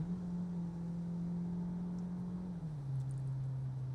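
A Peugeot 3008 Allure plug-in hybrid's 1.6 turbo petrol engine drones steadily from inside the cabin, a low even hum that drops slightly in pitch near the end.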